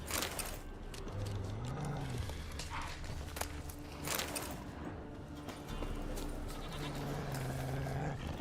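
Goats bleat repeatedly in The Witcher 3, several wavering calls over a busy game soundscape with hoof-like clopping and clatter, moderately quiet overall.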